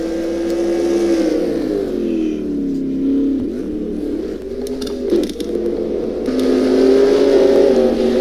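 Formula 1 race cars from a 2017 racing series event at the Philippines Grand Prix, engines holding a loud steady whine with shifting pitch, dipping midway then revving back up strongly, close and dominant.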